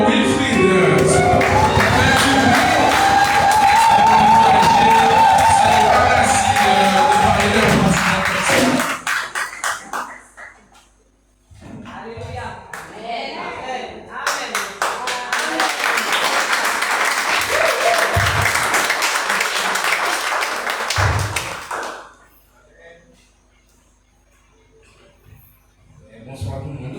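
A worship-night crowd at a youth praise and adoration evening applauds and cheers loudly for about nine seconds, then breaks into a second long burst of clapping and shouts with talk mixed in, before fading out.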